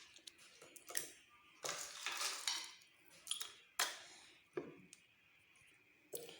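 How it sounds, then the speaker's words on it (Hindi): Ice cubes drop and clink into a glass of orange juice, several sharp glassy rattles and knocks spaced irregularly, close and fairly quiet, with no talking. "अब इसके अंदर मैं बर्फ़ ऐड कर रही हूँ।"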